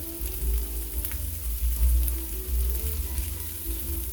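Shrimp sizzle and crackle in a hot pan alongside salmon as they are flipped, a steady, close frying hiss with a few soft clicks from the turning.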